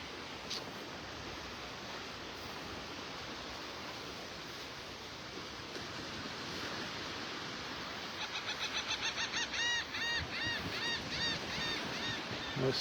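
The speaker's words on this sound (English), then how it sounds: "Those seagulls are something to listen to." Seagulls calling over surf on Delnor-Wiggins beach in North Naples, Florida; steady wave wash fills the scene, and a run of rapid, repeated squawking calls rises out of it in the second half, moderately close.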